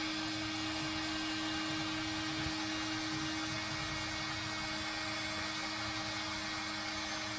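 A heat gun blowing hot air to dry sodium silicate pottery: a steady, loud electric whir and rush of air with a constant motor hum, running unbroken throughout with no voices.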